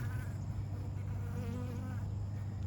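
Honey bees buzz steadily around a freshly marked, yellow-dotted mated queen, a continuous close insect drone with no talking.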